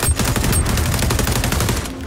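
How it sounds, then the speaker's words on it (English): Rapid automatic gunfire in XDefiant, a dense, loud, continuous stream of shots that fades slightly at the end, with no voices over it. "Where are those shots coming from?"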